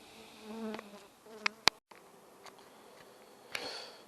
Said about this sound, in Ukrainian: Бачите, трошки бджола розліталася